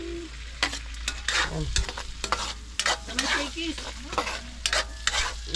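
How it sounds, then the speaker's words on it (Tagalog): Onion and chili fry and sizzle in a pan at an outdoor camp cookout, a close, continuous crackle broken by frequent scraping stirs, with no one talking. "Sama na rin natin tong konting pampaaroma lang, sibuyas"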